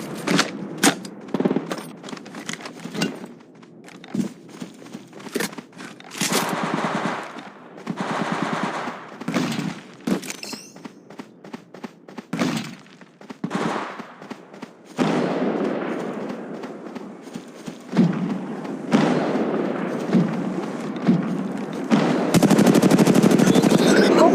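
Gunfire in the Apex Legends Mobile video game, loud rapid bursts of automatic fire and single shots in uneven clusters, with game voice lines and in-game effects between volleys.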